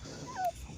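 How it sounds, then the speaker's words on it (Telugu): A small puppy out in sandy ground in Kuwait gives one brief, faint, high whimper over a steady outdoor background hum. "చిన్ని కుక్క పిల్లలు కువైట్ దేశంలో చూడండి"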